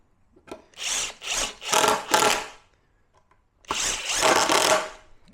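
A power drill drives 2-inch screws into a wooden towel rack for a pool deck. Four short, loud whirring bursts come in quick succession, then a pause, then one longer run. It sounds close.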